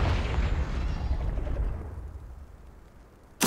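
Confringo fire-blast spell in the Hogwarts Legacy video game: a loud explosive burst that rumbles and fades over several seconds, with a sharp crack near the end.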